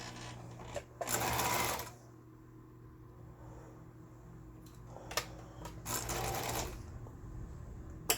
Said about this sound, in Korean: 일단은 직선 바느질을 해야 되는데 이게 직선 바느질